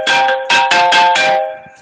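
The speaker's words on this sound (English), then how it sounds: "a random phone call." A phone rings with an incoming call, a bright electronic tone pulsing in quick bursts, about five close rings in under two seconds, loud and near with no talking over it.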